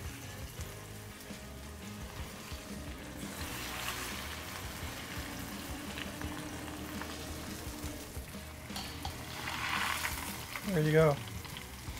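A burger patty fries in oil, giving a soft, steady sizzle with light bubbling at modest volume, and a brief spoken remark cuts in near the end.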